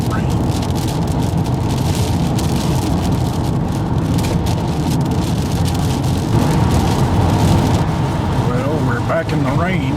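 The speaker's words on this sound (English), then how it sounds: "Back in the rain, certainly nothing to see except windshield wiper blades going." Rain patters steadily on a car windshield while the wipers sweep during highway driving, a dense wash of drops over road noise, with a brief voice near the end.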